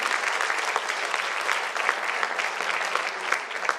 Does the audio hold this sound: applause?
yes